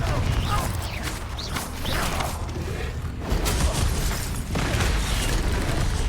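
Confringo blasting spell in the video game Hogwarts Legacy, with booming explosive bursts and crackling impacts amid a dense, continuous wash of combat noise and mechanical rumble.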